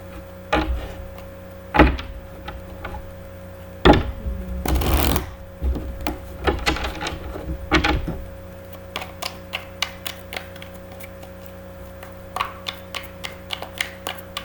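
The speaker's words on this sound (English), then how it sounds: "while I'm shuffling" A deck of tarot cards being shuffled up close, riffled in several bursts followed by lighter ticking card taps, quiet and without talk.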